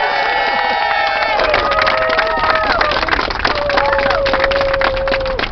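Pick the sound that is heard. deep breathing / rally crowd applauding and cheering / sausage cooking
rally crowd applauding and cheering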